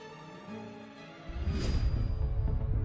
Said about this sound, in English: this is the sound of a solar storm crashing into our atmosphere